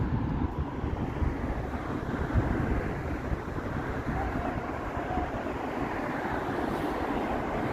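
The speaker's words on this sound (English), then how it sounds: "You can hear a subway." Toronto subway train running steadily, a continuous low rumble with broadband rail noise and some wind buffeting at the microphone, holding at a constant level throughout with no talk.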